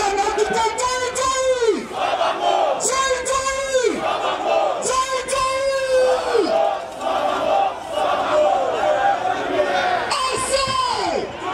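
A big crowd at a political rally chants and cheers in repeated rising swells, loud and continuous throughout, with shouted voices riding over the mass of sound.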